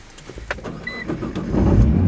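A Nissan GT-R R35 fires up from its push-button start: a short starter whir, then the engine catches and builds into a steady, close, rumbling idle that swells over the last half second.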